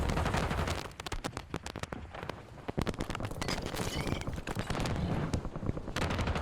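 Dense, relentless gunfire from the Warzone video game, with rapid SMG and Kilo 141 bursts cracking loudly and almost continuously, barely letting up.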